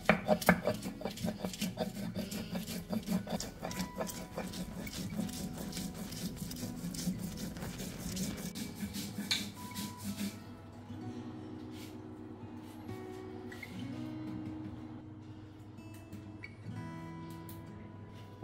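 Poppy seeds and green chilies ground into a paste on a stone, a rapid rhythmic rasping and rubbing close up that slows and fades halfway through, with faint background voices.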